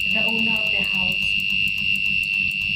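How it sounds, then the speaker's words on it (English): A home alarm system's buzzer, set off by a PIR motion sensor detecting an intruder, sounds as a loud continuous high-pitched electronic tone, with a brief stretch of speech underneath near the start. "the PIR sensor will detect the motion of an intruder, causing the buzzer to ring to alert the owner of the house"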